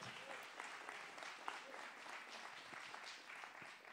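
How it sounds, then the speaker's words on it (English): Steady audience clapping at a compassion-themed film festival event, many hands applauding together for the whole clip, with faint voices mixed into the crowd noise. "we'll go ahead and clap for that"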